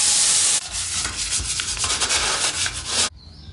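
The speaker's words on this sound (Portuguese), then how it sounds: "já acabei de lixar o tanque com a 320" Sanding the fuel tank of a 1968 Volkswagen Beetle with 320-grit sandpaper, a steady close rubbing hiss lasting about three seconds, with soft rhythmic strokes, then stopping abruptly.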